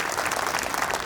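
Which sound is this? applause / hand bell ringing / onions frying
applause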